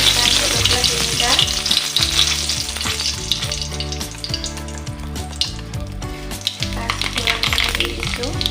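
Three dried red chillies fry in hot mustard oil in a kadai, giving a steady, loud, close sizzle with crackling and occasional stirring scrapes throughout, and no voice over it.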